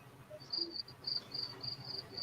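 Crickets chirp outdoors in steady, repeated high bursts, faint and continuous in the background with no one speaking.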